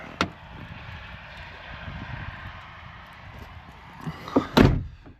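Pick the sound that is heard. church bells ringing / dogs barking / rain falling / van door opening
van door opening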